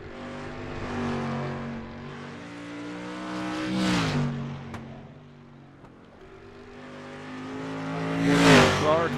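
A street stock race car laps a winter track, engine droning steadily as it passes near, fades and returns with a rising roar, under an announcer's voice.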